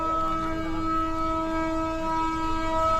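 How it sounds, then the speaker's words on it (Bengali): A train pulls in on a single-line track heading toward Kathgodam, a steady loud droning with sustained horn-like tones running unbroken through the whole stretch, with no voices. "এই ট্রেন ঢুকছে, সিঙ্গেল লাইন, এটা নিশ্চয়ই কাঠগোদামেই যাচ্ছে"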